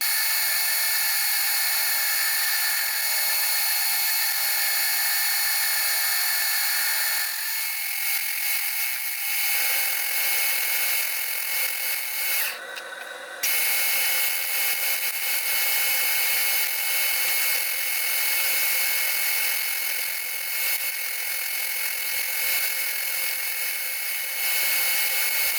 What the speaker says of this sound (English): all that's left to do is to bore out this hole here